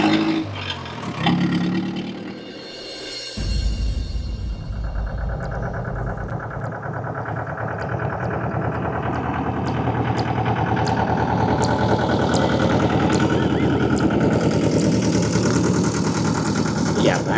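A tractor engine starts with a rough burst and settles into a steady, close, throbbing run that holds for the rest of the stretch, with some voices at times.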